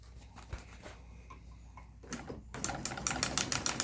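An industrial bag-closing sewing machine with a 750 W motor, class 38A, starts after a few quiet clicks and handling noises, then stitches a bulk bag in a rapid mechanical patter that grows louder toward the end.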